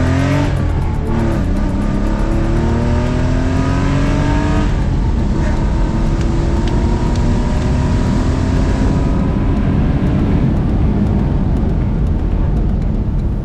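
An older Porsche 911 with a full straight-pipe exhaust, heard from on board as it accelerates hard through several gears, each rising engine note cut by a shift, loud and raspy throughout with no talking.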